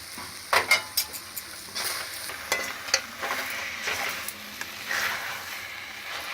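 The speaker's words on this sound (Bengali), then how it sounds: "খোয়া ক্ষীরটা ভালোভাবে মিশিয়ে আরও 3 মিনিট নাড়ব।" Papaya barfi mixture with khoya kheer being stirred in a pan, soft scraping strokes and a light sizzle repeating at an uneven pace, close and fairly quiet.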